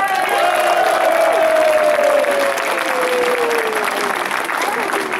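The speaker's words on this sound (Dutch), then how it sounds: "En daar krijgen jullie van de mensen nog een keer een daverend applaus voor." An audience at the final day of the Westfriese donderdag in Schagen breaks into loud, rousing applause, a thick wash of clapping with a little cheering, while a faint tone glides downward through it.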